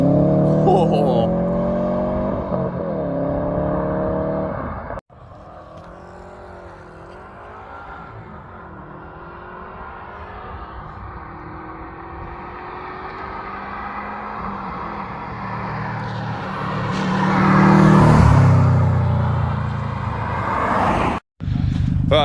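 A warm Subaru engine is revved repeatedly, its pitch rising and falling through several climbs with a louder, harsher peak near the end, mixed with background noise.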